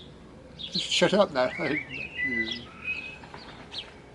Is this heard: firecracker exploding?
no